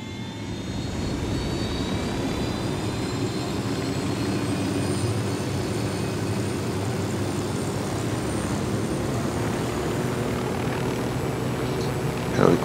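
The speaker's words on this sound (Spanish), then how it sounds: "Los helicópteros son más rápidos." Helicopter in Ghost Recon Wildlands in steady flight, a continuous close engine and rotor drone at even loudness throughout, with no talking.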